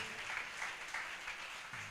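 A church congregation claps hands during Sunday worship, a steady dense wash of many palms from a crowd, moderately loud and continuous throughout.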